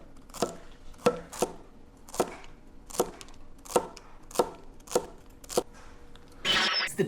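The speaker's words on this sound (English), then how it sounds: "We got the FK02 folding kitchen knife from Tacray. Let's see how this performs on some celery." A Tacray FK02 folding kitchen knife chopping celery on a board, around nine crisp, evenly spaced cuts in a steady rhythm, close and clear, ending with a brief rustle.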